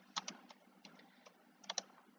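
Quiet, close keystrokes on a computer keyboard while a component name is typed into circuit-design software: two short clusters of soft clicks with a pause between them, alone in a hushed room.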